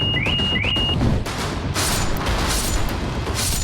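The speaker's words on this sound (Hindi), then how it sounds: "दिल्ली के प्रशांत विहार इलाके में गुरुवार को एक विस्फोट हो गया।" Explosion in the Prashant Vihar area of Delhi, picked up by a CCTV camera: a rough burst of crackling, rumbling noise with a couple of faint beeps at the start and a second noisy surge near the end.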